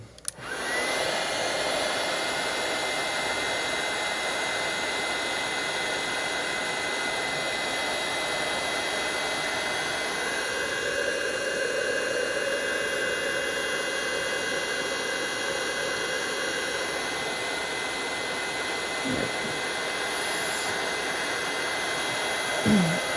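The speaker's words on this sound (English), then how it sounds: "once you hit it with the embossing heat gun, then the powder's going to stick to wherever it is" A craft embossing heat gun blows hot air over embossing powder on a Christmas card, giving a loud, steady, continuous whooshing roar close by that runs unbroken for the whole stretch with no talking.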